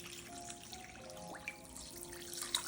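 Tap water runs steadily into a sink as raw mutton pieces are rinsed for a Kolhapuri tambada rassa, a soft continuous splashing and trickle with a few faint drips, quiet and close.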